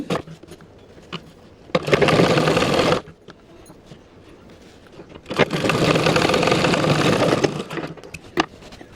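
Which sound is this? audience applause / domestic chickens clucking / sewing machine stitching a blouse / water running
sewing machine stitching a blouse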